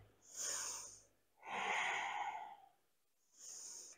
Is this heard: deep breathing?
yes